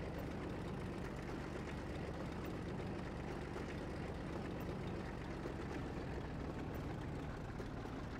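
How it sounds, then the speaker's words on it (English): A Type 2 diesel locomotive on the Port Road line in Train Simulator 2014 drones with a deep, bassy, slightly rattly engine rumble, steady and continuous, heard alone at low level. "The engine sounds alright."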